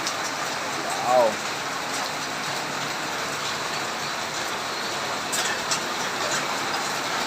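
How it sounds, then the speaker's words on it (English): Heavy rain pours down on a garden as a constant, even hiss that fills the whole stretch, with a brief voice sound near the start. "It is raining so heavily."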